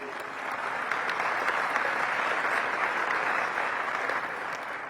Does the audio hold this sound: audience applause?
yes